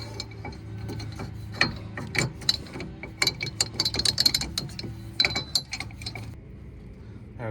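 An inner tie rod is screwed in by hand on a Ford Explorer. Close, quiet metallic clicks, ratcheting and clinks come in irregular bursts and stop near the end.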